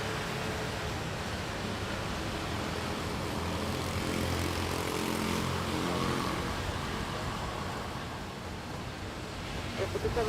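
Propeller airplane at rainy Manila International Airport, a steady, broad engine roar holding near-constant loudness throughout, moderately distant and mixed with wet background noise.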